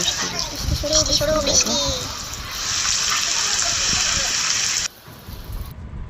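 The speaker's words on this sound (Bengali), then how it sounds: "সারাদিন ধরেই বৃষ্টি।" Rain pours steadily as a broad wash of water noise for most of the stretch before dropping off abruptly near the end, with a voice talking briefly early on.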